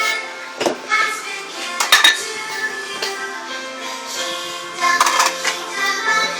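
Plates, cutlery and glasses clink and clatter close by during dishwashing in a home kitchen, with irregular sharp knocks and ringing chinks throughout and faint voices at moments.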